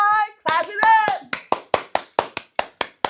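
Hands clap about a dozen times in a steady rhythm, sharp and close, after a stretch of people talking.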